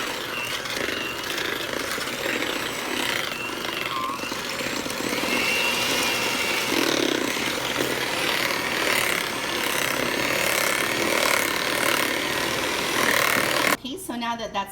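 An electric mixer beats ube cupcake batter in a bowl, giving a steady, fairly loud whir with a gritty, scraping texture that runs almost unbroken before cutting off abruptly near the end.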